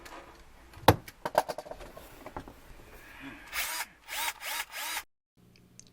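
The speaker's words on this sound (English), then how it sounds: "So I used an electric screw." Electric screwdriver unscrewing screws from a PC during a rebuild, scattered clicks and knocks followed by several short whirring bursts of the motor, close and alone before a brief silence.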